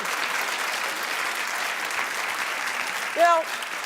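A television talk show studio audience clapping in a steady, even burst that carries through the whole stretch, with a brief vocal sound rising near the end.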